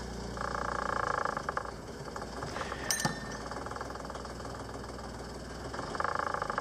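A boat engine idles steadily just after a cold start at 9 degrees outside, a close, continuous knocking chug with a brief sharp clank partway through and no talking.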